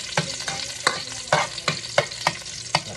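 Garlic fries in a hot pan with a constant soft sizzle, broken by a regular series of sharp scraping stirs about twice a second.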